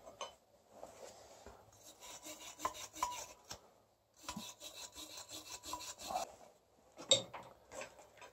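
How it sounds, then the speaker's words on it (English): A snow blower's PTO key chase, where two pieces join and the key fits, is scrubbed by hand in bursts of rough rasping strokes that pause and resume, fairly close with no talking. "So I'm going to give that a little scrub."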